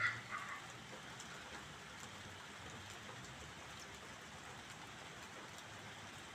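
Steady rain falling, a soft continuous hiss of drops on surfaces, fairly close, with no talk.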